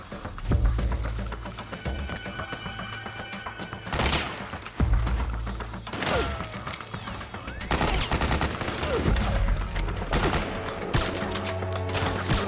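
Dense, sustained gunfire in Metal Gear Solid 4 during a high-alert firefight, rapid automatic bursts with heavy thuds and sharp cracks layered continuously, loud and close, with brief lulls before firing resumes.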